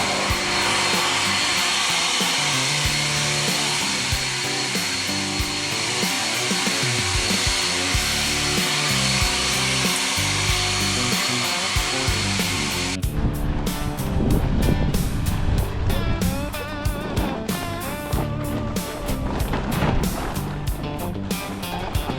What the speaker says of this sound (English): We got a leaf blower and an actual push broom.